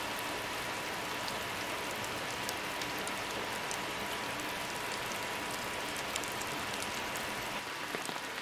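Steady rain falls without pause on a lakeside town, a dense even hiss with scattered drop taps throughout and no voices.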